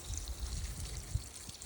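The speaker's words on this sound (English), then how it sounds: "the last step here is watering them in" Water poured from a watering can or hose onto freshly transplanted tomato plants in a garden bed, a steady, soft splashing trickle heard close up and alone.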